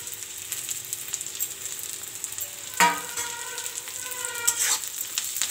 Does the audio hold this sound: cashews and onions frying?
yes